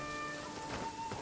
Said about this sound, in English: Rain. One way to wash off the grime.